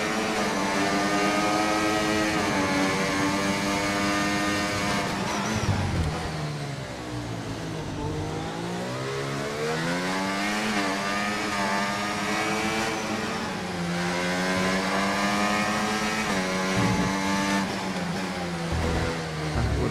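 Formula 1 race car in F1 24 screams at high revs in a loud, continuous engine whine, shifting pitch up and down through gear changes and braking on the Monaco street circuit.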